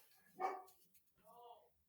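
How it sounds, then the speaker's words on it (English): A dog barks twice indoors, a loud sharp bark followed by a softer, more tonal yip-like bark about a second later, with quiet pauses around them. "my dog just barked a lot"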